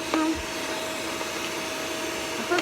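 A vacuum cleaner runs upstairs in a house, a constant loud whine and rush with a steady pitched tone, interrupted by a few brief knocks.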